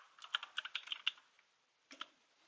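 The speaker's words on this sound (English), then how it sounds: "let's go to Google and then simply type NetBeans" Quick burst of keystrokes on a computer keyboard while typing a search into Google, then a short pause and a couple of final key taps, all quiet and close.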